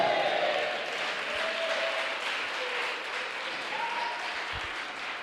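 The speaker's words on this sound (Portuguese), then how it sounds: "uma salva de palmas para Jesus" Crowd applause from a church congregation at a communion service, a soft, distant wash of clapping with brief faint vocal tones.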